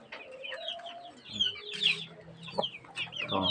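A hen clucks repeatedly in a farmyard, loud and close, her short clucks and squawks mixed with other birds chirping nearby.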